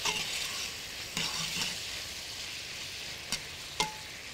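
Shrimp frying in oil with black pepper, stirred in a pan: a soft continuous sizzle with a few sharp spoon knocks and scrapes against the pan, close and with no talking.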